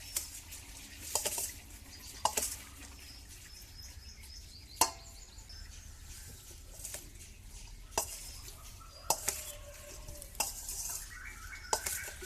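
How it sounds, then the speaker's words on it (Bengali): Cooked rice being mixed in a pot at an outdoor family picnic, a soft continuous stirring with scattered sharp clinks of a spoon against the pot rim, quiet and close. "এরকম করে সমস্ত ভাতগুলো মিশিয়ে নেবে।"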